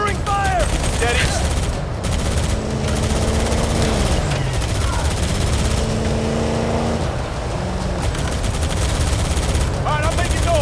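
Heavy gunfire crackles in Halo: Campaign Evolved, dense bursts and automatic rattles layered over engine-like drones and battle noise, loud and continuous with brief shouted voices in the mix.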